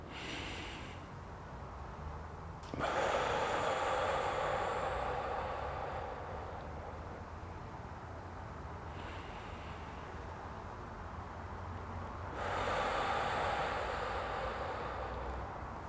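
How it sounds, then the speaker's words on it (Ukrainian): Deep, slow breaths in a breathing exercise for recovery after flu: long airy inhales and exhales alternate alone, close and steady, with quiet pauses between them. "І дихаємо таким чином, можемо повторювати до 10 таких дихальних актів."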